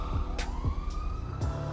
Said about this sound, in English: Oh, because of the sirens.